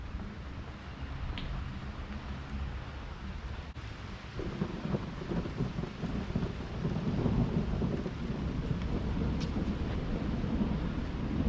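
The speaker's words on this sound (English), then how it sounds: "The rain is coming." A nighttime thunderstorm with steady rain keeps up a dense, even wash, joined by deep rolling thunder that builds louder through the second half, with no talking.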